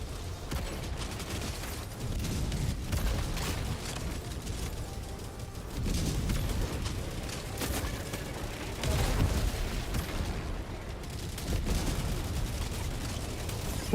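Continuous gunfire from the video game Helldivers 2, dense overlapping shots and booms keeping up a steady, fairly faint barrage throughout.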